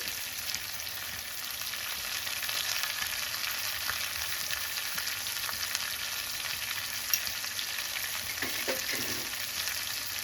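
Garlic and ginger paste fries with salt in a pan for an Indian-style chicken dish, a constant bright sizzle with a few stirring scrapes near the end.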